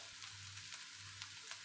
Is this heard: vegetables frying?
yes